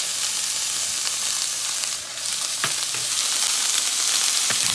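Green beans with turmeric fry in a pan, giving a loud, steady sizzle throughout with occasional scrape and stir sounds, no talking.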